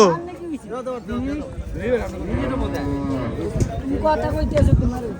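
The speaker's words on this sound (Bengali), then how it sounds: "এই গরুটা কুমিল্লা চান্দিনা হাট থেকে বেচা বিক্রির চেষ্টা চলছিল" Thin, bony cattle bellow and moo at the Chandina livestock market in Comilla, several long, loud lowing calls close by, mixed with people talking and general market bustle.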